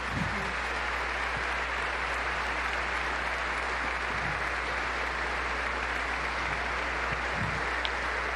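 Audience applauding Pope Francis at Vespers for consecrated life in the Jerónimos Monastery, Portugal; sustained, even applause from a large crowd, heard at a distance against a steady low hum.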